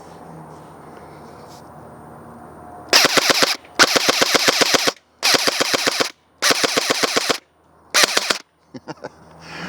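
An Umarex AER 16 electric steel BB rifle fires full-auto in five loud, rapid bursts of about a second each, with quiet gaps between and faint outdoor ambience before the shooting starts.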